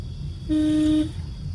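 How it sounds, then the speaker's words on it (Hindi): A single car horn honks steadily for about half a second over a low idling engine rumble. "लॉन्ग हॉर्न प्रेस करो"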